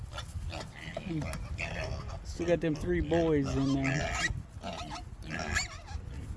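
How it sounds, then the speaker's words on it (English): Pigs grunt and squeal nearby in short bursts while someone talks over them. "pigs making noise."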